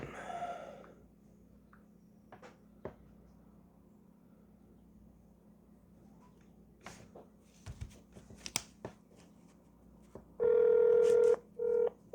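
A telephone call to the Ontario Provincial Police in London, Ontario: scattered clicks and taps of dialing, then a loud steady ringing tone in two bursts near the end.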